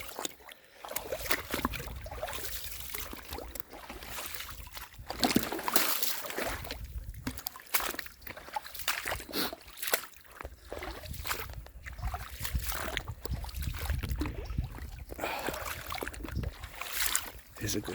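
Cold stream water flowing steadily along a hiking trail, a continuous rushing wash with occasional splashes, close by, while a person talks over it.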